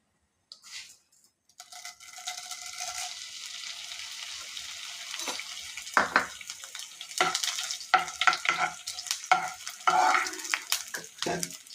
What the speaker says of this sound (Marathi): थोडं थोडं तूप टाकून थोडा थोडा डिंक तळायचा